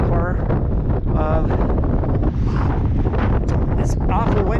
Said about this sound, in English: It's awful windy up here